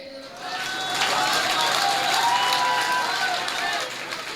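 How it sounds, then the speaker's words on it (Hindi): Audience applause at a hasya kavi sammelan (comedy poetry gathering), a steady wash of clapping and crowd noise that swells and holds for several seconds before thinning out. "आपने ताली गलत जगह बजा दी"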